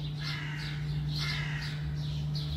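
Seagulls squawk and cry outside a window in repeated harsh calls, several birds overlapping at a moderate distance over a steady low hum, with no talking.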